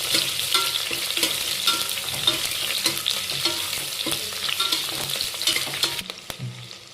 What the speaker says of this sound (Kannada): ಆ ಈರುಳ್ಳಿ ಮತ್ತು ಮೆಣಸಿನ್ಕಾಯಿನ ಹಾಕ್ಕೊತಾ ಇದ್ದೀನಿ. ಎಲ್ಲನೂ ಸಣ್ಣ ಉರಿಲ ಹುರ್ಕೊಬೇಕು